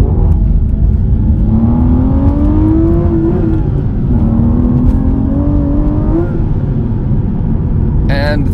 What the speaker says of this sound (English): Is when that V12 starts to sing and you get high in the rev ranges